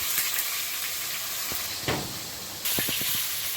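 Snakehead fish fries in a generous amount of hot oil in a wok, giving a steady broadband sizzle and hiss with a few sharp pops and spatters.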